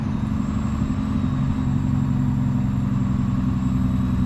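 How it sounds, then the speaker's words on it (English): A 2013 Kenworth T370 wrecker's 350 HP Paccar PX9 diesel rumbles steadily up close under its exhaust brake, a deep, continuous drone with no pauses and no voices. "And Sedona does have an exhaust brake."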